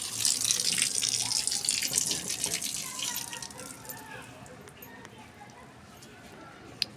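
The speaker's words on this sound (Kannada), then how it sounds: "ಎಲ್ಲ ಗಿಡಕ್ಕೂ ಬೆಳಗ್ಗೆ ಸಂಜೆ 2 ಟೈಮೂ ಆರಾಮಾಗಿ ನೀರು ಬಿಡೋಕ್ಕಾಗತ್ತೆ" Water runs steadily from a tap set up for watering plants at a home, a continuous splashing flow that fades somewhat toward the end, with a voice speaking over it.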